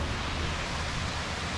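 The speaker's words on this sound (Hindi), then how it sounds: "मंदिर के पास एक झरना है यार" A waterfall beside Kainchi Dham temple in Nainital sends out a steady, dense rush of falling water. It is continuous and fairly loud throughout, with no voices.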